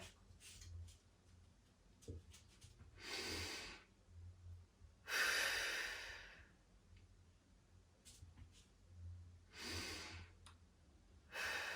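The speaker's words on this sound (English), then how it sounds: "I'm really focusing my breathing into my ribs and my belly" Slow, deep breaths during a yoga chest-opening stretch, each long inhale and exhale rising as a soft airy rush close to the mic, several in steady succession with quiet pauses between.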